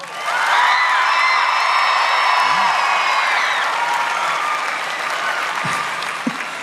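A concert audience applauds loudly for the bassist, with dense sustained clapping and shrill whistles and whoops layered over it, slowly easing toward the end.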